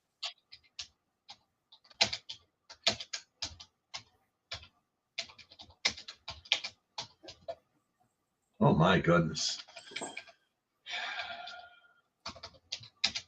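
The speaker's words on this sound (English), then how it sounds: "My fingers are not typing well today." Typing on a computer keyboard in irregular bursts of close, light clicks, with pauses and a brief spoken exclamation in the middle.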